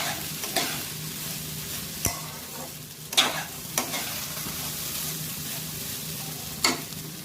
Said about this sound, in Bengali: চালটাকে এবার ভালো করে ভেজে নেব।